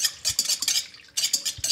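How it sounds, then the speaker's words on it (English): A spoon stirs sugar into a mixture for pizza dough, making quick, bright scraping clinks against the bowl in two bursts with a brief pause between them, close and unvoiced. "So put in 1 teaspoon of sugar and then give it a mix around."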